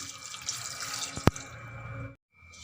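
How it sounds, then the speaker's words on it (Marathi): Running water pours steadily with a light splashing wash as grapes are rinsed, one sharp knock partway through, then the flow cuts off abruptly into silence. "आता हे स्वच्छ धुवून घेते मी एक ते दोन पाण्याने"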